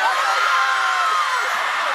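A large crowd of fans at an outdoor Korean music festival concert screams and cheers together in one sustained, loud roar that holds steady for about two seconds.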